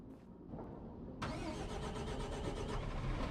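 A big tractor's engine cranks and catches in Farming Simulator 25, stepping up abruptly from a low rumble to a loud, steady mid-range engine running close by, with no talk.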